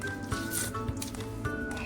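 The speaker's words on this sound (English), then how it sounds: "So I'm going to squeeze it really tight and squeeze out all that extra water." Wet cardboard pulp squeezed tightly by hand to force out extra water, giving soft squishing and dripping sounds, quiet and close, over a low background hum.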